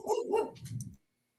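A dog gives a quick burst of two or three barks and a short growl nearby, followed by sudden silence.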